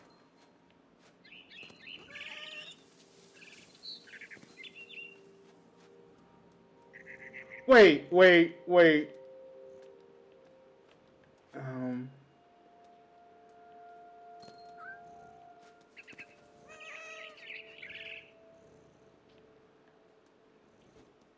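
Bright bird chirps in the video game What Remains of Edith Finch, a few short bursts of tweeting early on and again near the end, with someone talking over them.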